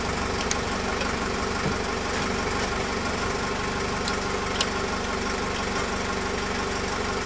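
A diesel engine turns over on its starter motor during an injector check, a steady loud mechanical churn with faint ticks throughout, no voices.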